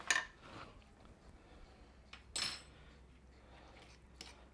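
Smoked sausage and beef go into a pot of mac and cheese, marked by a few sharp metal utensil clinks against cookware and soft scraping, quiet and sparse.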